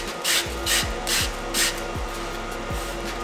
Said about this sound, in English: the same principles apply with wet sanding as you would use with dry sanding